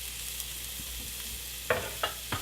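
Sausage chunks and onion frying in a pan for sausage gravy make a steady soft sizzle, broken late by three sharp scrapes or knocks of a utensil against the pan.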